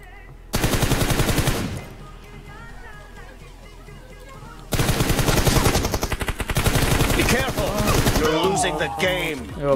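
Rapid automatic gunfire from a video game weapon in two long bursts, loud and close, with a short pause between them and a player's voice talking in between.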